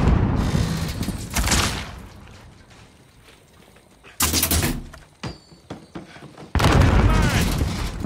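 Grenade blast in Call of Duty Search and Destroy, a loud booming burst near the middle and another at the end, amid ongoing gunfire and combat noise, with voice callouts heard between.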